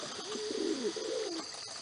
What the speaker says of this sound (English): I think it's some other kind of bird